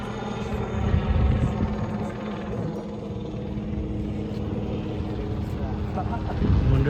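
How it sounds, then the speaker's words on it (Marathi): A helicopter passes overhead near the coast, where a fishing boat is being prepared for a traditional blessing before a fishing trip; a steady low rotor drone runs throughout, swelling slightly at the start and end, with people talking over it. "हेलिकॉप्टर चाललाय"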